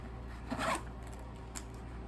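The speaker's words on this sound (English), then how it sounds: "So you would just zip this up." A small zippered backpack carrying case for a Puffco Peak being zipped closed, one short quick zip pull with a brief second rasp later, close and fairly quiet.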